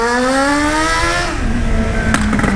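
A Yamaha XJ6 motorcycle with a modified 3-inch exhaust pipe roars up close, its pitch climbing steadily, then dropping into a lower rumble with a few sharp pops.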